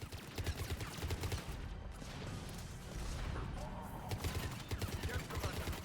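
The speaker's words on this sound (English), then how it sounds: "And you'll be dead if you don't start shooting." Rapid bursts of automatic gunfire in the video game Mass Effect 3 crackle and pound almost without pause, loud and dense, with game voices speaking faintly underneath.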